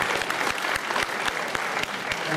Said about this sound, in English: So give yourselves a big round of applause for coming out.